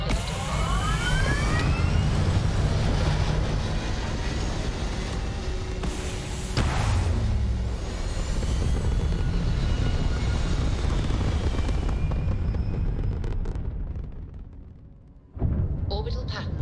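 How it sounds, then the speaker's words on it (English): A spaceship lifts off in Starfield with a loud, sustained roar and rumble that holds for many seconds, then thins out and fades before a brief burst near the end, and a voice speaks over it. "We have liftoff."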